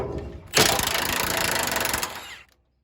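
Sockets and a backup wrench working on frame rail bolts during a rear pre-runner bumper install on a 1995 Ford F150, giving a single loud, dense ratcheting burst of about two seconds close up, then stopping.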